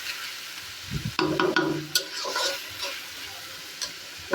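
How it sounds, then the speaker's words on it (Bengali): Shredded cabbage dropped into a pan of chicken curry, a sudden loud hiss and crackle that settles into a softer, intermittent sizzle with a few stirring scrapes. "তো এখন আমি পাতাকপিটা দিয়ে দেবো।"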